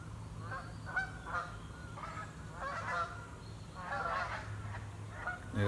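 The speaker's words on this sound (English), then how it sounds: "There they go, just gone down the river. Grey lags they were." A flock of greylag geese honking repeatedly over a river, overlapping calls rising and falling at moderate distance against a low background rumble.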